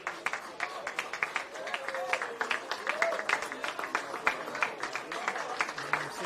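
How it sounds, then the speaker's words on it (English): Football fans at Barton Park applaud a substituted St George FC player during an NPL Men's NSW match against Wollongong Wolves. The clapping is broad and sustained across the crowd, and a commentator talks over it throughout. "very big round of applause from the fans at Barton Park"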